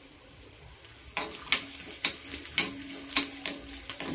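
Ginger sizzling and frying in hot oil on a high gas flame for a Marathi dried-shrimp and potato sabzi, a steady crackle with stirring scrapes growing livelier after the first second, no talk.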